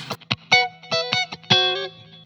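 Funk electric guitar double stop sliding up a half step, heard among a short run of crisp plucked notes and chord stabs, close and dry with a light effect, no voices.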